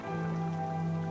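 Rainwater drips from the roof of a hut during a rainy night, a steady patter of drops heard under a sustained musical drone.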